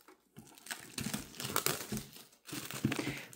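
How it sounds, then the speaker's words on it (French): Small, thin plastic wrapping is torn and peeled off a Pokémon card tin. It makes quiet, irregular crinkling and rustling in several short bursts over a few seconds, with no talking. "C'est un tout petit plastique. Donc il devrait s'ouvrir facilement."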